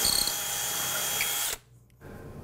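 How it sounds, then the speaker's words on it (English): A power drill fitted with a 3/8-inch bit bores through a wooden pivot arm for a tablesaw outfeed table, whining steadily and close for about a second and a half before stopping. "I'll use a 3/8-inch drill bit to drill a hole from the rib all the way through"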